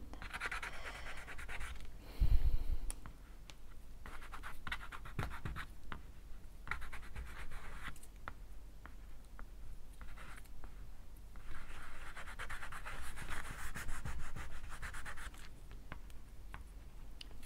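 An artist rubs pigment into a drawing, producing soft, continuous scratchy friction strokes in quick uneven bursts, faint and very close, with one brief louder knock early on and no speech.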